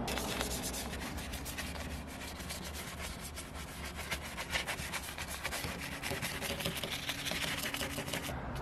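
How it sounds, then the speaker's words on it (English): Dynamat foil sound-deadening material being peeled off the metal floor of a Subaru Impreza 2.5RS GC8 trunk, a steady close scraping, rubbing rasp with uneven tearing bursts throughout and no talking. "I'm peeling off all of this dynamat foil junk that somebody decided to cover"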